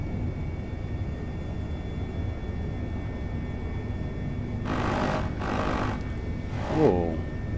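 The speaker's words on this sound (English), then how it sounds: "Minigun." Simulated minigun on a military Airbus H145 helicopter in Microsoft Flight Simulator: a steady low rotor and engine drone, then three short, harsh bursts of gunfire near the end.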